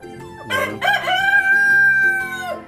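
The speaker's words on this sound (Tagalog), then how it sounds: "Ito sila yung ating Rhode Island Red." Rhode Island Red rooster crowing on a chicken farm, one loud, close, drawn-out cock-a-doodle-doo with a rising start and a long held tone, heard alone without talk.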